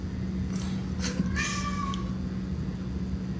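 A house cat meows in a rising, drawn-out call of about a second, preceded by a couple of short chirps, fairly close and clear over a steady background hum.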